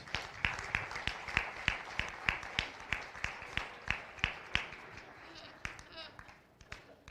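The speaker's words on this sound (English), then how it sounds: "Everybody go ahead and give these juniors one last round of applause" Rhythmic unison clapping from a county fair swine show crowd for junior exhibitors, evenly spaced sharp claps that fade into scattered claps near the end.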